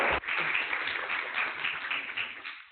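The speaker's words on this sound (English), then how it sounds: "I would like a big round of applause because I think they deserve it." Steady room-filling applause from attendees at a regional meeting for ICD-11, a dense wash of many hands clapping at once, sustained and even, then tapering off.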